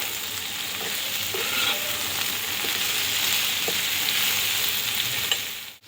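Green chillies sizzle steadily in a hot pan, the first step of a dried fish mash with pointed gourd peel; a constant, close frying hiss with faint stirring clinks, no voices.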